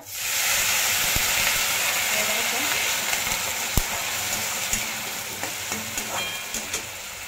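Water splashes into a hot pan of brinjal and potato curry, setting off a loud hissing sizzle and steam that slowly settles into softer crackling, with a few clicks and knocks near the end.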